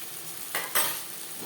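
Onion and tomato frying in a pan with turmeric, ginger paste and green chili paste, a quiet sizzle broken by two short stirring scrapes close by.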